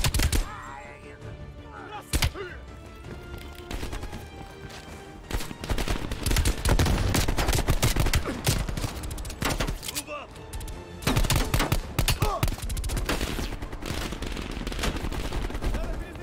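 Gunfire in the video game Call of Duty Black Ops Cold War: dense bursts of automatic rifle fire and single sharp shots crackle through much of the clip, loud and close, with brief lulls in between.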